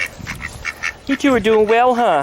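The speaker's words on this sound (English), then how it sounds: "And the ducks are out in the yard right now." Ducks out in a yard quack in quick loud bursts, several calls rising near the end, while someone speaks to them softly over the first part.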